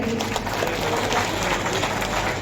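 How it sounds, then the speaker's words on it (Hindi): A crowd at a Guru Purnima satsang gathering claps in steady, dense applause, a continuous mid-distance wash of many hands over a low room hum. "जोरदार ताली बजा करके"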